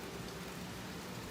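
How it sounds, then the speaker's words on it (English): Light rain falling outdoors, a steady soft broadband hiss with no distinct drops standing out, faint and continuous throughout with no talk. "Right now it's just a little downpour of rain"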